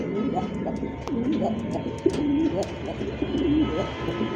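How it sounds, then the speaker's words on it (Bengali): A pair of Milibar kolshi-gola rasgolla pigeons coo close by, with repeated soft, rolling calls spaced through the moment over a low background hum. "ডাকটাও সেই সুন্দর, বাকবাকুম সম্পূর্ণ রানিং মিলিবার কলসি গলা মধ্যে একজোড়া রাসগোলা জোড়া কলসি গলা"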